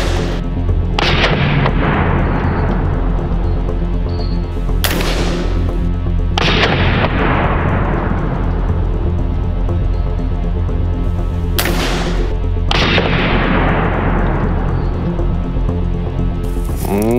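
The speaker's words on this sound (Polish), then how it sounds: "W takim razie darujemy sobie brenekę, strzelamy z 2-2-3." A .223 rifle fires at a padlock, each sharp, loud crack followed by a long echoing decay. About six shots come at irregular intervals, some close together, with no talking in between.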